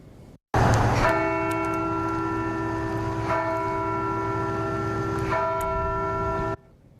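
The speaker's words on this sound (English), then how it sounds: "In Connecticut, church bells tolled to mark the solemn date." A church bell in Connecticut tolls steadily, its deep ringing tone sustained and swelling with each strike, heard clearly for several seconds with no talking.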